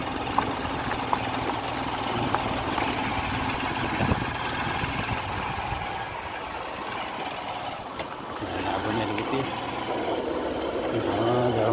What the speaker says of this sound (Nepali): कहीँ मोटरसाइकल आउँदैछ